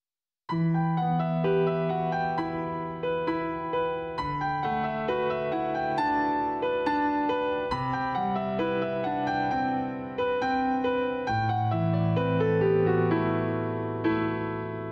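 A solo piano plays a flowing melody over steady lower notes, sustained chords shifting every few seconds, clear and close with no voices.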